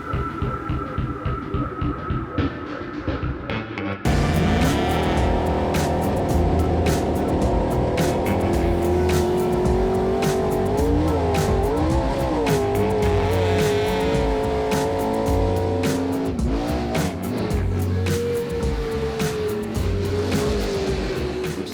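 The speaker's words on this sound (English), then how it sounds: "side by side with a bunch of trucks, and we're just going at it." Race trucks battle side by side on a dirt track at Crandon's 50th anniversary event, engines roaring close and loud with rising and falling revs, tires squealing, and a sharp jump in intensity a few seconds in as the pack surges.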